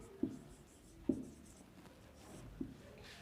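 Handwriting during a Hindi-language geography lesson, with soft scratching strokes and three sharp taps as the pen or chalk meets the surface, close and fairly quiet with no talk.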